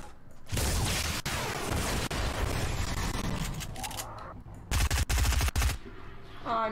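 Rapid automatic gunfire from an SMG and shotguns in the video game Fortnite, loud and nearly continuous bursts with several sharp shots, followed by a brief game sound at the end.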